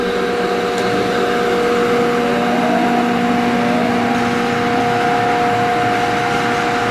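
A Northfield No. 7 25-inch planer runs with its feed engaged, and the speed control rattles lightly on its bearing. A continuous motor hum with steady tonal whine fills the whole stretch, with no voices.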